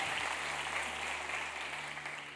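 A church congregation applauds in a steady, dense wash of clapping that fills the room evenly and slowly fades slightly, with no voices over it.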